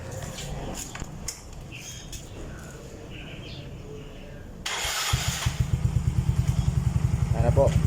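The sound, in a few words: motorcycle with ORBR exhaust pipe running, sound check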